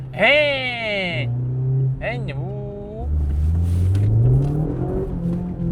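A Mazda MX-5 Miata engine revs hard under throttle, with pitch sweeping up through the gears across several pulls, loud and close from inside the car while people talk over it.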